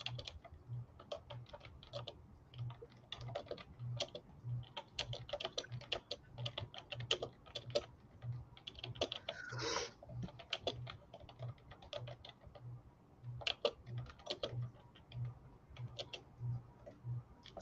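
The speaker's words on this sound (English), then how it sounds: "So while CB is typing that" Typing on a computer keyboard during a casual book-talk chat: quiet, close clicking in irregular bursts that runs steadily throughout, with no voices.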